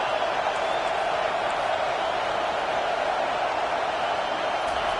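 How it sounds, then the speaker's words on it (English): Dense, steady roar of a stadium crowd cheering at a third-down play in a college football video game, loud and unbroken throughout with no clear voices on top. "this crowd is tearing the lid off this place"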